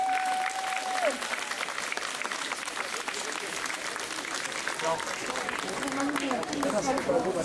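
An outdoor crowd applauds at a medieval festival in Monestiés, with continuous, fairly distant clapping throughout and voices and chatter mixed in underneath.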